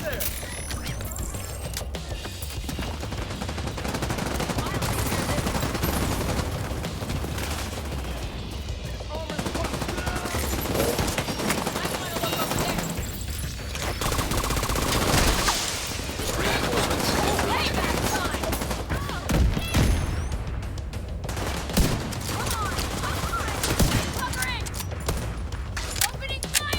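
Dense, sustained gunfire from a battle in The Division 2: Warlords of New York, with rapid automatic bursts and shots layered over one another at close range, continuous and loud across the whole stretch.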